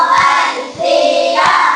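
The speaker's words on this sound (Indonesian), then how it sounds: "Tepuk konsentrasi." A classroom of children performs a rhythmic concentration clap in unison, three loud clusters of claps spaced evenly, mixed with shouted group chanting that fills the room.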